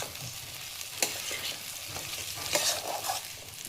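Peas and potatoes stirred and fried in a spiced masala for a matar paneer, with a steady close sizzle and sharp spoon scrapes at a few points. No voices.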